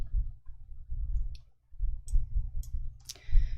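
Sharp, distinct computer mouse clicks, several spaced irregularly over a few seconds, close and clear above a low background hum, as cells and row heights are set in an Excel spreadsheet.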